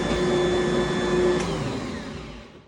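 Electric kitchen mixer whirring steadily at close range while mixing a batch, a constant motor drone with a high whine that eases off and fades toward the end; no talking.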